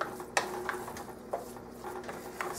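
Chicken stuffing with celery is stirred in a bowl, giving soft, close scraping and clinking strokes in an uneven rhythm with no talking.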